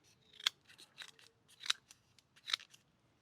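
The scissors of a NexTool Flagship Pro multitool snip through paracord in three crisp, close cuts about a second apart, with softer clicks of the blades opening and closing between them.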